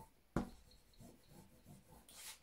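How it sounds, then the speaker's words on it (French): Someone erases a marked line on fabric while sewing a party pouch, making a faint, close rubbing scratch with one sharp tap at the start. "là je vais venir effacer mon trait du bas"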